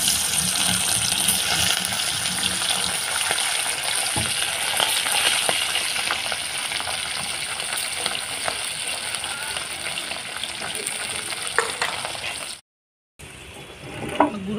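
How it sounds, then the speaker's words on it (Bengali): Fish frying in hot oil gives a loud, continuous hissing sizzle with occasional crackles, broken by a brief silent cut near the end before the frying resumes. "তেলটা গরম হয়ে গেছে, মাছগুলো ভেজে নেব।"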